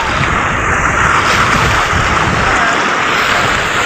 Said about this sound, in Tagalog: Maliit lang yung alon pero mahangin lang siya